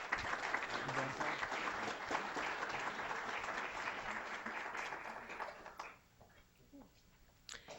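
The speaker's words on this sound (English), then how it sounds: "Let's give them a nice round of applause," Audience at a county board meeting claps in a full round of applause that holds steady for several seconds, then thins to a few scattered claps and quiet room noise.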